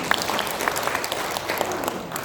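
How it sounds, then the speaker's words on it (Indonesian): A church congregation breaks into scattered, rippling applause, individual claps popping out over a softer crowd wash, moderately distant and continuing evenly for a couple of seconds. "Tepuk tangan yang beriak."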